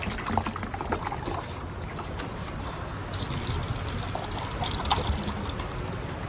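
Hot water pours steadily in a continuous splashing stream, close by, onto frozen rabbit water to melt the ice, with a bright trickling texture throughout and no voices.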